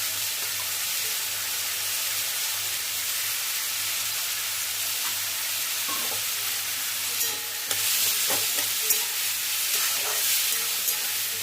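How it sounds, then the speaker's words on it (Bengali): Raw mung dal frying with raw papaya in a pan gives a continuous close hiss and sizzle, with occasional scraping stirs growing a little louder toward the end. "মুগ ডালটা এটার সঙ্গেই ভাজছি আমি"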